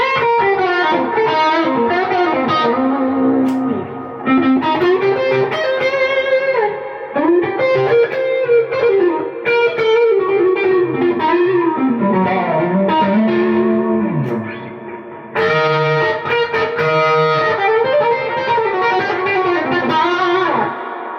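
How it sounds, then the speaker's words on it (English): Electric guitar playing melodic lines with heavy reverb and some effects, notes ringing out and washing together, no voices. "It's a lot of reverb."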